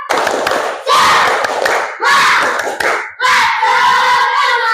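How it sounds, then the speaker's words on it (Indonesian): Fourth-grade schoolchildren in a classroom do a rhythmic spirit clap: loud, close bursts of clapping in a patterned beat, broken by short pauses, with the children's voices chanting and shouting along. "Coba semuanya tepuk semangat"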